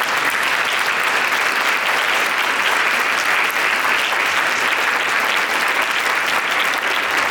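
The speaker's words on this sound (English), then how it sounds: "please give them a round of applause" An event audience gives a panel a loud, sustained round of applause, dense and even clapping filling the room without pause.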